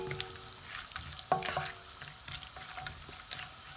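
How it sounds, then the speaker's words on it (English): Chopped cashews and almonds frying and being stirred in hot ghee, a soft steady sizzle with light scraping and occasional clinks of a spoon, close and low in level with no talking. "fry it till it becomes nice brown and crispy, and the ghee gets the taste of these dry fruits"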